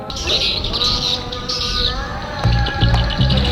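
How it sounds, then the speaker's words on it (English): Loud recorded bird chirps and tweets play from speakers in birdhouses, repeating over a busy background, with a few lower cooing calls near the end. "these birdhouses, they also have speakers coming out of them with bird sounds to try and attract the birds"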